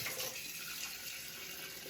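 Water running from a kitchen tap into a mason jar, a steady close rushing splash with no voices over it.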